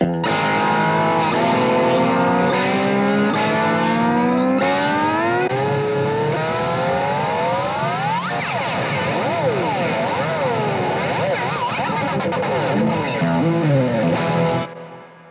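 Distorted, effects-heavy electric guitar with sweeping, swooping pitch bends and scraping noises made with a microphone stand, loud and continuous before cutting off near the end.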